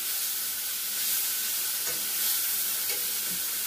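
Ground beef browning in a hot pan while being stirred, a constant loud sizzle and hiss with a few soft scraping strokes, no talking.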